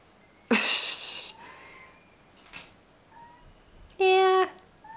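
A loud pet cat lets out two meows, a long harsh one at the start and a clear tonal one near the end, with a short faint sound between them in an otherwise quiet room.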